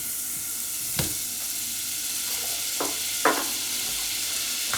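Butter melts and sizzles steadily in a pan at the start of a béchamel, a soft continuous hiss with a few distinct clinks and stirring taps, fairly quiet and close.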